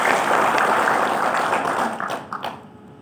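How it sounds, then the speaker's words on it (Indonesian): An audience at a national coordination meeting gives a burst of applause, full and loud at first, then thinning into scattered claps as it fades out near the end. "Tepuk tangan buat APK kita"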